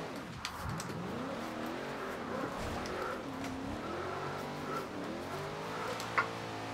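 A twin-turbo Corvette drift build in Forza Horizon 2 slides through turns, its tires squealing in long wavering tones over a steady engine drone, loud and close with no talk.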